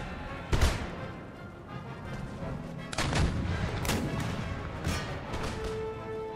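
Musket volleys and cannon fire boom in an Empire: Total War battle with Spanish forces, several sharp blasts spaced a few seconds apart over a rumbling battlefield din.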